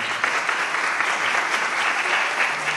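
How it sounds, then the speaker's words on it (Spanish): A debate audience breaks into loud, sustained applause, a dense crackle of many hands clapping in a hall for about three seconds. "señor Yamir Yataco, del Colegio Cipiañona, a quien recibimos con un fuerte aplauso, por favor."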